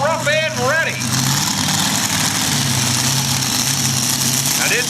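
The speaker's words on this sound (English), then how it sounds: "Now this one's powered by a 557 cubic inch blown Chevrolet." Pulling tractor powered by a 557 cubic inch blown Chevrolet with an 871 blower on top, idling in the ready area at a fire company tractor pull, a steady loud rumble with a whistling sound over it early on.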